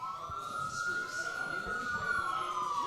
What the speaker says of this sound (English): There's an ambulance going on.